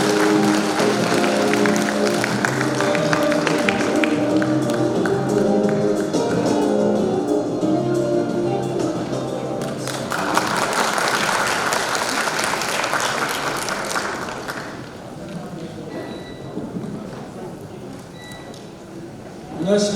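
A hall audience at a pharmacists' association event bursts into sustained applause under music, the clapping thinning out toward the end.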